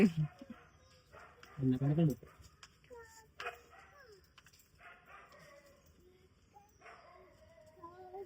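A dog barks and yips near a home, with a couple of louder woofs early on and softer whimpering sounds later, while people talk throughout.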